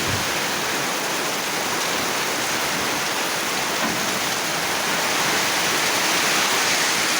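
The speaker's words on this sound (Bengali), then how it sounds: "দেখুন কি পরিমাণ বৃষ্টি হচ্ছে" Heavy rain pours steadily during a Kalbaishakhi storm in Barishal, a dense, loud, unbroken hiss of downpour close by, with no voices over it.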